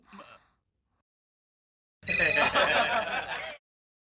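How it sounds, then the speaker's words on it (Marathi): A phone rings in a single bright burst of tones lasting over a second, after a brief sound and a stretch of silence. "माझा फोन वाचतोय मला काहीतरी ऐकू दे"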